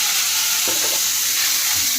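Onions and spices frying in a pan give a loud, close, continuous sizzle with a brief stirring scrape partway through.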